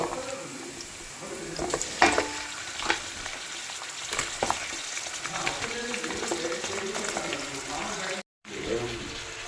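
Goat head meat drops into a pan of frying onions, setting off a close, steady sizzle with scattered stirring clatter and a brief cut near the end; a voice speaks briefly over the cooking.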